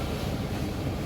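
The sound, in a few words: strong flowing water current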